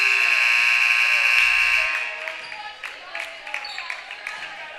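End-of-quarter buzzer at a high school basketball game between the Hawks and the Carrier Mills Wildcats, a loud sustained electronic tone lasting about two seconds before fading into crowd noise and the squeak of shoes.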